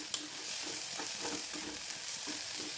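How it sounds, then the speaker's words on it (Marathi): Cluster beans (gawar) sautéing in a little hot oil, a steady close sizzle with soft stirring scrapes throughout and no talking. "थोड्या तेलामध्ये त्या परतून घ्यायच्या पाच ते दहा मिनटं"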